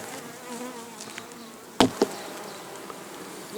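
Bees in an opened log beehive give a continuous soft, close buzz, briefly masked by a couple of sharp knocks of the hive being handled.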